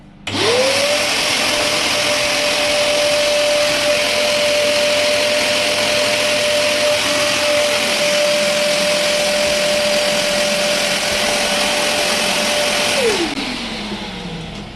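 A central vacuum cleaner sucks air through a drain pipe, its motor spinning up into a loud, steady high whine with roaring airflow for about twelve seconds before winding down at the end.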